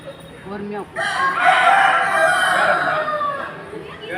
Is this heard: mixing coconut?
no